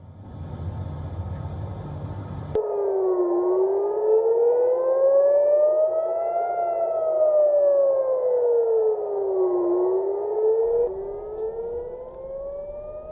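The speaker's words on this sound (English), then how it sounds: "In Israel, sirens warnings of incoming missiles sounded across much of the country's north and center" Civil defense air-raid sirens warning of incoming missiles in Israel wail loudly and steadily, rising and falling in long sweeping tones over a low background rumble.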